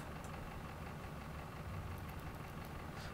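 A boat engine is still running in the game Coast Guard: a steady, low, knocking idle drones on evenly and faintly throughout, with a few small clicks on top and no talk.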